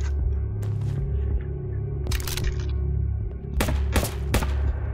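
Automatic rifle fire in a VR shooter game, fired one-handed: several short bursts of sharp cracks ring out over a steady low hum and rumble, fairly close and loud.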